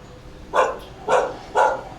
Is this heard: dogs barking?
yes